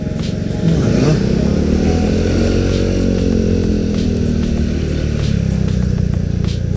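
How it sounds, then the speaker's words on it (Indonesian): Engines of motorcycles and cars pass close by in congested traffic in Bali, a constant loud rumble with rising and falling revs as vehicles go past. "Ini nih yang bikin macet, mobil-mobil lalu lalang seperti ini, motor segala macam."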